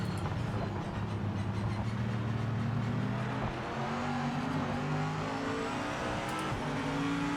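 AMG GT3 race car engine in Project Motor Racing drones steadily with layered low harmonics, sustained and fairly loud throughout, with a brief dip in pitch midway as it shifts or lifts before climbing again.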